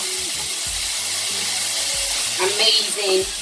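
Cherry tomatoes hit a hot pan with a steady close sizzle and hiss, a few stirring scrapes and clacks rising near the end, with no voices over it.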